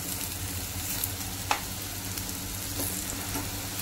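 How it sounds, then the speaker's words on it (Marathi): Patties of red amaranth greens frying crisp in oil, a close, continuous hissing sizzle with faint crackles and one sharp click partway through. "चांगले खरपूस असे तळून घ्यायचे"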